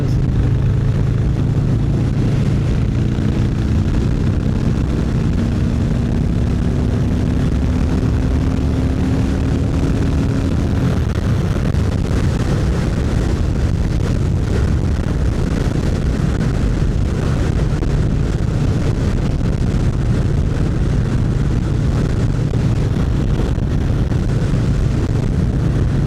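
Strong gusting wind roars and buffets steadily over a Harley Sportster with a big bore 1250 engine riding through open rural fields in 25 mph winds, a low engine drone mixed into the constant rush.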